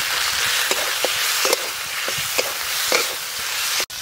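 Turmeric and chili paste frying in a pan, a steady hiss with occasional soft scrapes and clicks from stirring, close and fairly loud, with no talking.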